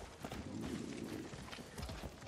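Hooves of a horse in Far Cry 6 clopping in a steady trotting rhythm, fairly close, with faint background game ambience and no talk.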